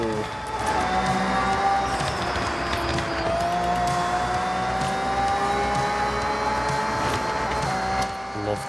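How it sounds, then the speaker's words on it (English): A turbocharged car in a racing video game drones with a loud sustained engine tone that climbs and holds steadily, with whining turbo overtones throughout. "Love the sound of this car."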